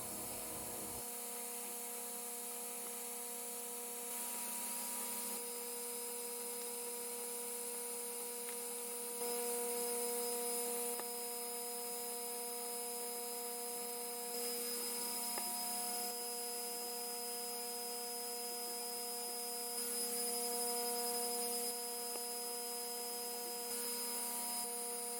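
A laser cutter works through 3mm basswood plywood, its fans and motion system making a quiet, steady mechanical whir with tonal hums and small shifts in level as the head moves, with no voices.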